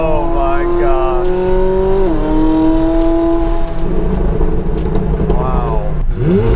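A supercar engine revs and holds a loud, throaty drone, rising and dipping in pitch with a couple of sharp rev blips, while people talk and exclaim excitedly over it nearby.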